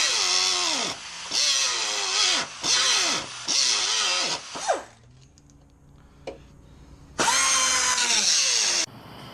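A power tool cuts rusted sheet metal from a car body panel in several loud, whining bursts that rise and fall in pitch, then a pause with a few small knocks before one last long cutting burst.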